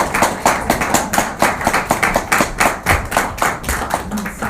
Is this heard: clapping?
yes